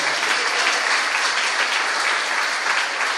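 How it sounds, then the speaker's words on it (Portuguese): A church congregation bursts into sustained applause, a thick, even roar of many hands clapping at once with no voices over it. "Dê um aplauso mais uma vez a Jesus"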